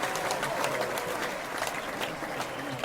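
Studio audience applauding and cheering for a musical guest, a dense continuous roar of many hands with scattered whoops, close and full throughout.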